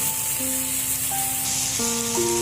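Tomatoes with salt and sugar stirred in a hot pan while cooking dahi chicken, a steady close sizzle and hiss with faint tonal hum underneath, continuous throughout.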